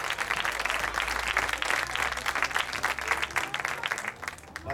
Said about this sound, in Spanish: Dele un fuerte aplauso al Señor Jesucristo